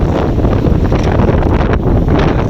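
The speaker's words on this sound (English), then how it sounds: "so much more wind than predicted, but it doesn't matter" Strong wind at sea aboard a sailboat near Timor makes a loud, continuous roar of wind buffeting the microphone, with rushing water and rigging noise blended in.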